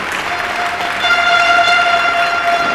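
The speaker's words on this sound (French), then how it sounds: "Mais on peut applaudir aussi les Espagnols." A crowd at a padel tournament in Narbonne applauds steadily and loudly, a dense continuous wash of clapping with a sustained tone running through it.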